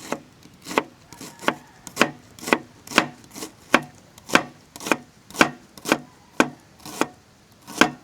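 Onion chopped with a knife on a board at a rustic no-electricity campsite, about a dozen crisp, evenly spaced chops in steady rhythm, close and alone with no voices.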